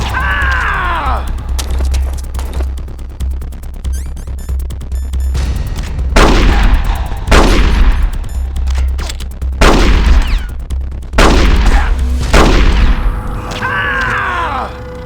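Gunfire in the video game Metal Gear Solid: loud, repeated gunshot blasts, each with a ringing, falling tail, arrive at irregular intervals over a steady low mechanical hum, with no voices.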